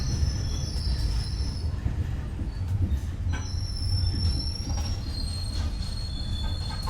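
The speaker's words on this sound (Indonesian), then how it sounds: "kereta api Probowangi telah tiba dan berhenti di stasiun Porong" The Probowangi passenger train pulls into Porong station and slows to a stop, wheels squealing in long high shrieks over a steady rumble of rolling railcars, close and loud throughout.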